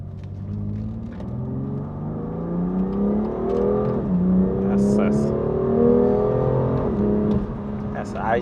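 A BMW M2 Competition's turbocharged engine in Sport Plus mode pulls hard under acceleration, its note climbing smoothly and steadily from inside the cabin, with a brief dip before rising again.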